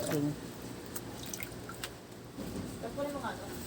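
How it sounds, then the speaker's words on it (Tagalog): Water trickles and drips while dishes are rinsed at a kitchen sink, a thin, fairly quiet flow under a voice giving instructions. "Diyan, diyan ka na magbanlaw. Diyan, diyan, diyan. Sayang yung tubig."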